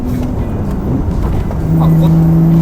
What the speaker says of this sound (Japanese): 最初が結構グッてこう加速するんで、そうガバッてスロットルが開く感じですね。